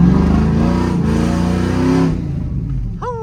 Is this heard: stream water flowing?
no